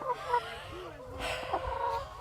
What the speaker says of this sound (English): On Rosie and Ward's land, chickens are raised out in the open.